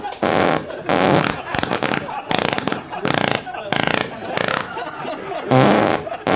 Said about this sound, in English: It's real weird when someone hears a fart and goes, yes!